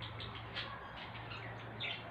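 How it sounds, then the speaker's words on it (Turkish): Birds chirp outdoors on a sunny day: scattered small tweets and short calls at a moderate distance over a steady low background hum, with no voices. "Cıvıl cıvıl."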